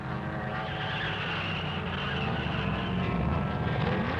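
A 1968 turbine race car at Sebring whooshes along amid steady engine and track roar, a broad rushing noise that swells slightly toward the end without a sharp pass-by peak.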